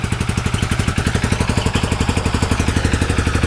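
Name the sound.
UTV engine idling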